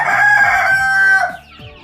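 A rooster crows loudly and close, one long drawn-out call that tails off into a brief lower cluck, from birds kept in a village chicken coop.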